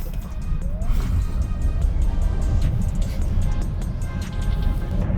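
A Tesla launches at full throttle from inside the cabin, giving a loud, steady rush of road and motor noise with low rumble and wind roar that holds strong for about five seconds, broken by faint rattles and bumps.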